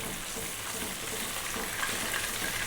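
Fish frying in hot oil, a steady close hiss and crackle of sizzling that carries on evenly throughout, with no talk.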